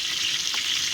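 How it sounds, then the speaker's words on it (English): Chicken sautéing in a pan for Jamaican country-style chicken, a steady dense sizzle with a faint soft scrape near the middle, alone and fairly close. "When I take out my chicken, I saute them"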